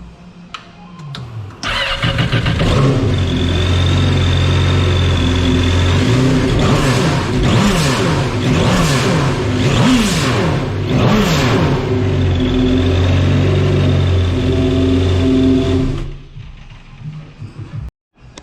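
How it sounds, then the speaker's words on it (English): A Yamaha FX SVHO supercharged jet ski engine fitted with a Fizzle blow-off valve cranks and fires, then idles and revs repeatedly in loud rising and falling bursts with hissing valve releases, before shutting off near the end. "start it up so you guys could hear what the tile 50 mil blow-off valve sounds like"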